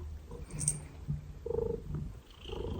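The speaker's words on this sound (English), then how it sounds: "My cat's purring at the camera" A house cat purrs right up close in a steady low rumbling rhythm with soft breathy pulses, quiet and intimate with no talk.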